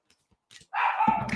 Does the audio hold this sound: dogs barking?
yes